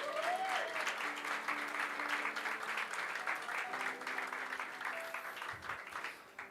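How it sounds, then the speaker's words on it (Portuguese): A church congregation claps in sustained, moderately loud applause that fills the room, with faint tones and voices underneath, tapering slightly toward the end. "Você pode aplaudir a Deus por isso."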